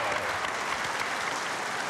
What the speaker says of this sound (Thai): ปรบมือปรบมือให้น้องหน่อย